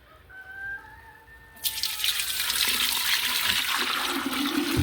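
Sweetened tea pours into a kombucha jar in a sudden, loud, rushing splash that sets in after a quiet start and keeps flowing steadily.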